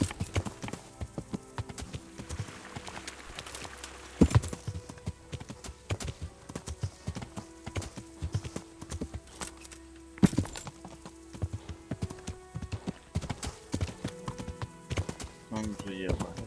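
Horse hooves clip-clop at a gallop in the medieval video game Kingdom Come Deliverance, a steady rhythmic drumming with occasional heavier thuds, heard under someone talking and faint game background sounds.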